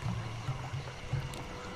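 A waterfall in Sly 2 pours in a steady, soft rushing wash of water, faint and unbroken throughout with no talk over it.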